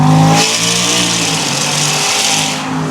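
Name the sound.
twin-turbo Ford F150 Raptor engine accelerating at higher boost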